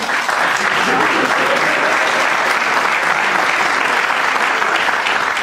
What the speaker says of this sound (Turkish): Tabii burada propaganda mahiyetli bir alkış şart zaten.